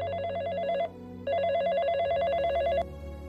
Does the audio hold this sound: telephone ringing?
yes